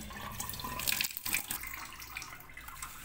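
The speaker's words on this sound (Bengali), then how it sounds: "তো চিকেনটাকে এখন ভালোভাবে ধুয়ে নেবো, পরিষ্কার করে নেবো।" Raw chicken is washed under a running kitchen tap, giving a steady splashing hiss of water with shifting gurgles as the meat moves in the stream.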